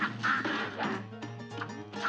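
Cartoonish ducks in a speedrun video game quack repeatedly in quick, nasal bursts, fairly loud and close, with a faint steady background tone underneath.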